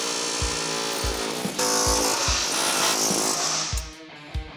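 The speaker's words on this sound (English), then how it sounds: "with our X's cut, we can pop them off with an air chisel" An air chisel popping cut crossmembers off a C10 truck frame, a loud, steady pneumatic hammering with repeated low thumps, fading at the end.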